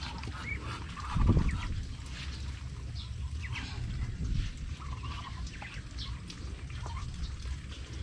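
Farm ducks quacking in their pen, scattered honking calls near and far over a steady outdoor background, with one louder burst early on.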